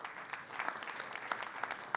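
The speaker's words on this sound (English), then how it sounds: "let's give a big round of applause to Andre de Castro" An audience at a Bitcoin and Ethereum conference claps for an incoming speaker. Many hands make dense, fairly distant applause that stays steady for the whole moment, with a few sharper claps standing out.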